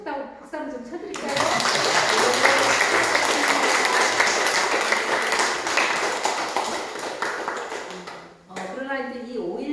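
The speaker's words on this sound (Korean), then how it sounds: "우리 한 목사님 수고하셨다고 박수 한번 좀 쳐드릴까요?" A church congregation at Sunday worship applauds their pastor. Brief speech opens the moment, then loud, dense clapping swells and holds for about seven seconds before fading back into talk.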